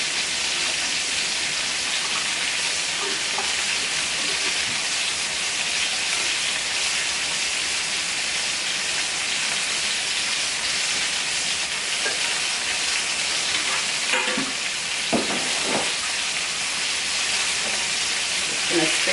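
Chicken browns in an electric frying pan for Marry Me Chicken, giving a steady, close sizzling hiss with occasional faint clinks.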